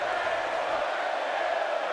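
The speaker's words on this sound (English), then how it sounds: "The crowd is chanting, Bray is going to kill you, Bray." Arena crowd noise from the WWE 2K18 wrestling video game, a steady, dense roar of massed voices that holds at an even level throughout with no clear breaks.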